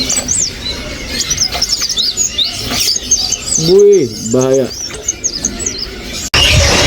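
A sooty-headed bulbul (trucuk) at a bird kiosk sings in a busy run of high, bright chirps and trills that continue throughout, while a man briefly exclaims in the middle.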